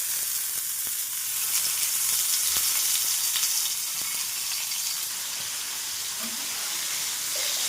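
Thick cubes of paneer, about 250 grams, fry in hot oil in a pan until golden brown, giving a continuous even sizzle with faint crackles and occasional soft stirring taps, close and steady.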